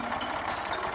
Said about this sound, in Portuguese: Trator.